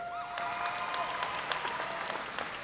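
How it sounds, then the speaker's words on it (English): Applause for Waco High School's Class of 2018 honor graduates at a graduation ceremony, a steady patter of many hands heard from a distance, fairly faint, with a few whistles above it. "please join me in a round of applause for our Waco High School Honor Graduates Top 10 Class of 2018"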